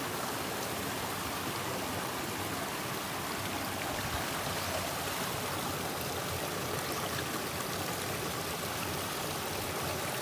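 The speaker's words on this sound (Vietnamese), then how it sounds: "Thì con suối nha." Forest stream flowing in the wild, a dense, steady rush of water close by with no breaks, filling the whole clip at an even level.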